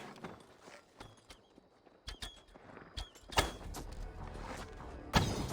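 Horses' hooves clip-clopping in a medieval-style game scene, a run of crisp, irregular hoof strikes at moderate distance that grows louder and busier toward the end.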